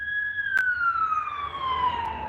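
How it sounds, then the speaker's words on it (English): A police car siren sweeps past on a street along Route 61, its wail held as a steady, gradually falling tone with a brief sharp click near the start, loud and close against low traffic rumble. "Got a siren going up the street. What we got? A police car."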